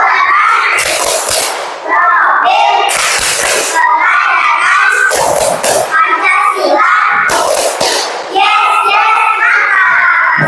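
Children in a classroom clap the Tepuk P5 rhythmic game together, sharp loud bursts of hand claps in repeated patterns mixed with chanting voices and shouts filling the room.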